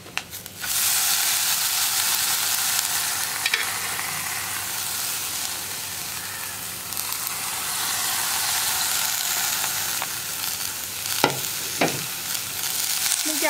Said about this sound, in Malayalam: ക്യാബേജും കൂടി ചേർത്ത് നന്നായിട്ടൊന്ന് ഇളക്കി മിക്സ് ചെയ്യുക.